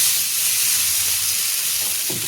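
Vegetable pitha fries in oil over a gas flame, giving a continuous bright sizzling hiss that stays loud and even, with no voices.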